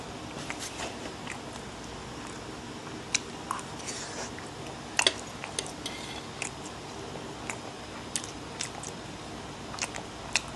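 Someone slowly chews instant Korean noodles with cheese sausage, with soft wet bites and occasional crunchy clicks close up over a low steady background hiss.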